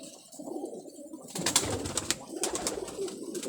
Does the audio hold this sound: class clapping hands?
no